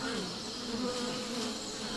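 Aggressive wild bees buzz steadily around a tree hollow in Sri Lanka, a dense continuous droning swarm close by, with no voices.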